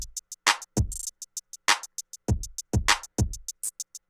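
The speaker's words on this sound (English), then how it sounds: "Then we added a hi-hat." A steady drum-machine pattern: booming kicks and snappy claps with a rapid run of bright, ticking hi-hat hits filling the gaps in between.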